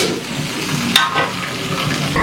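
Onion and ginger garlic paste fry in melting butter for a peas biryani, producing a loud, continuous close sizzle with a brief stirring clatter partway through.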